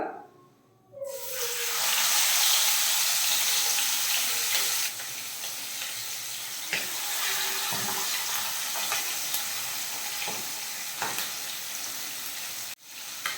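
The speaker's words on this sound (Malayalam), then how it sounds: "എണ്ണ ചൂടായി കഴിഞ്ഞാൽ നമുക്കതിലേക്ക് നമ്മൾ എടുത്തു വെച്ചിട്ടുള്ള ലെഗ് പീസ് ഇട്ട് കൊടുക്കാം" Chicken leg pieces drop into hot oil and set off a loud, continuous sizzle with scattered pops and crackles.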